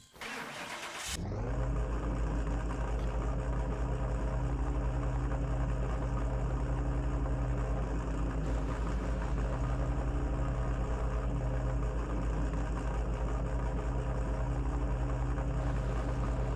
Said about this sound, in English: We'll say that is a very aggressive sounding engine.